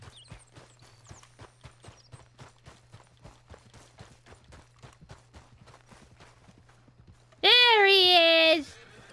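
Horse hooves in the video game Red Dead Redemption 2, a steady clip-clop of walking steps at a moderate pace, followed by a loud whinny near the end.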